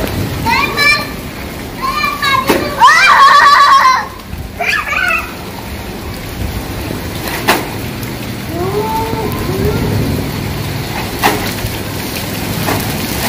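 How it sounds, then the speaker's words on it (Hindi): Heavy rain pours down steadily at a house, a dense loud hiss with occasional drips and knocks, while children and adults talk over it. "और बारिश तेज हो गई,"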